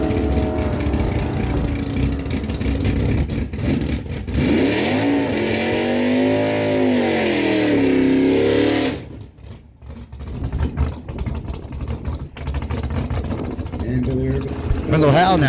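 A 1969 Chevy Corvette drag racing car roaring as it accelerates down the strip at a dragway, the engine note climbing through gears, loud and near, then cutting off into quieter track ambience and crowd noise.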